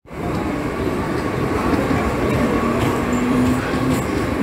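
A Mumbai Western Railway train near Andheri, heard from onboard as a loud, continuous rumbling roar of wheels and carriage noise that stays steady throughout.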